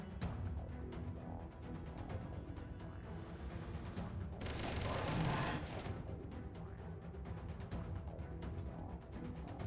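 Rapid bursts of mech weaponry firing on an enemy in the game Mech Armada, dense crackling gunfire and explosive impacts layered thickly throughout, swelling into a louder barrage midway.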